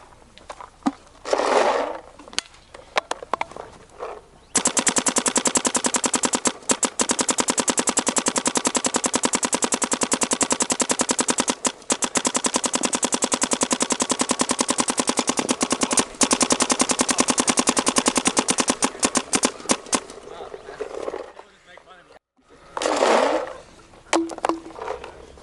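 A Planet Eclipse CS1 paintball marker fires a long rapid stream of shots, dense mechanical cracks running continuously for close to twenty seconds, loud and close, with short separate bursts before and after.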